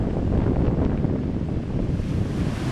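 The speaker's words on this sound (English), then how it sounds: "The swell and the waves are definitely starting to build." Building ocean swell and surf on the Outer Banks ahead of Hurricane Irene, heard as a steady, loud wash of waves thickened by gusting wind buffeting the microphone, with no voices.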